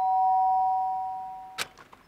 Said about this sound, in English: the sound of the doorbell forced its way into my room